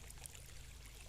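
A water feature trickles and flows steadily in the garden of a century-old Peranakan hotel in Malacca, a faint, continuous wash of running water with no voices.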